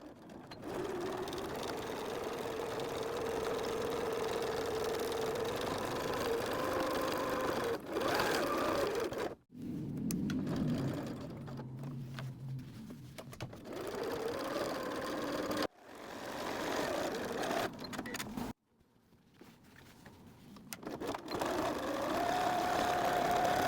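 A sewing machine stitching a strap onto the front of a fabric beach bag, running in long steady bursts with a few brief stops, close and fairly loud, with no speech.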